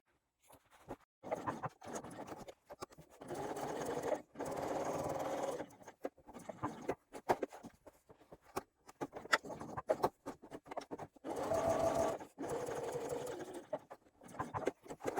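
A domestic sewing machine stitches a bag lining in repeated close bursts of fast mechanical whirring, separated by short pauses and quiet handling clicks, with no voices.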